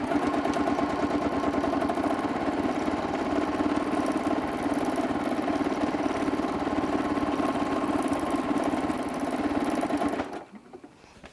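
A sewing machine stitches wavy quilting lines on a quilt in a steady, fast mechanical whir that runs unbroken for about ten seconds, then stops abruptly.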